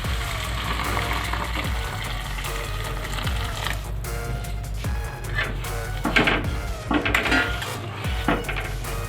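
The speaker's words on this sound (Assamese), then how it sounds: "এতিয়া আমখিনিত গৰম পানী এড কৰি দিম।" Hot water splashes into a pot of boiled raw mangoes for an Assamese fish curry. The quiet pour runs for several seconds amid light metallic clinks and clatter from the pot and utensils.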